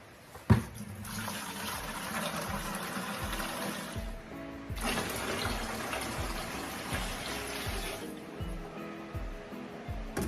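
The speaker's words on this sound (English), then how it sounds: "this jug holds 2 quarts, so it's gonna take 2 fills" Tap water runs steadily into a two-quart food-grade jug, a continuous rushing fill that briefly cuts off and resumes, close and moderately loud, with no talking.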